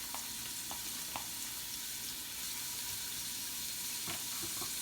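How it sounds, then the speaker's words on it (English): Onion sizzles steadily in a hot soup pot with browned beef, a constant hiss broken by a few soft clinks and stirring knocks, with no talking. "Let's put in some onion."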